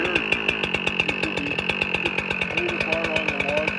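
A professional-model chainsaw runs at idle after starting, a loud close engine putter with rapid regular firing pulses and a buzzing high whine, steady throughout with brief talk underneath.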